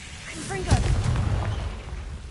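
A Confringo blasting spell in Hogwarts Legacy bursts into a sharp explosive boom, trailed by crackling, whooshing residue. A voice shouting over it.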